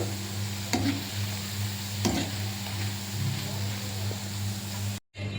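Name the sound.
gobi pakoda frying in hot oil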